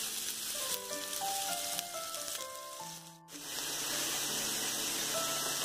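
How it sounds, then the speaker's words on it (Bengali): Chopped onion sizzling in hot oil over garlic, ginger and spices for Bengali eggplant gravy: a continuous bright crackling hiss, close and even, with soft melodic music beneath and a short lull midway. "এবার আমি পেঁয়াজ কুচি দেব।"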